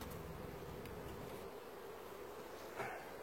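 Honeybees drone in a dense, continuous buzz throughout a honey harvest as the hive is disturbed, the sound steady and close with one brief louder rise near the end.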